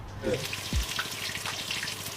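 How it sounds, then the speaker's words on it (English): Swordfish fries in a pan with a soft, steady sizzle, broken by a brief louder spatter and a low thump, and speech is heard close by. "We're frying swordfish."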